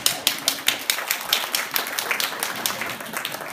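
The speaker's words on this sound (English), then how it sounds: "Give her a big round of applause." An audience at a magic show applauds a volunteer coming up on stage, a loud burst of many hands clapping that gradually thins out and softens.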